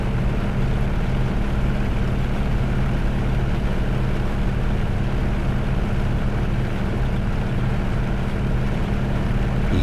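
A Grumman F6F Hellcat's 2000-horsepower radial engine roars at takeoff power in a flight simulator, a loud, steady, dense low drone that stays even and unbroken for the whole stretch.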